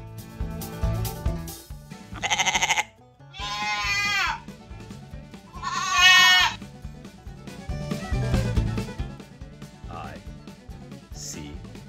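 Several loud, close goat bleats ring out between bursts of bouncy children's farm-song music, each cry wavering and nasal, repeated three times around the middle with a fainter one near the end.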